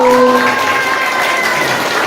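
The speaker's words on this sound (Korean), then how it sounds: "박수." A church congregation at an Easter Mass applauds. The clapping is brief and fairly loud, with a sustained tone and some voices underneath.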